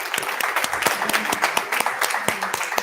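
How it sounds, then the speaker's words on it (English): A crowd at a stage event claps together in a dense, continuous burst of applause, loud and close, with scattered sharp individual claps throughout and no talk. "let's give everybody a round of applause again"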